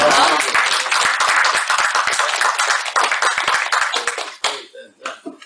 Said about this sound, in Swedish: Jag, jag, tror att vi kan applådera